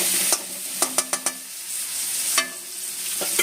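Grated ginger is stirred in hot oil in a pan for a Bengali potol kofta curry, giving a steady sizzle under a few sharp, quick spoon scrapes and taps against the pan.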